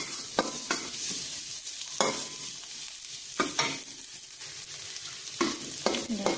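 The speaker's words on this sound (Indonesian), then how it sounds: "Bawang putihnya kita tumis" Garlic stir-fries in a little oil over high heat, a steady close sizzle broken by repeated scraping strokes of a spatula about every second.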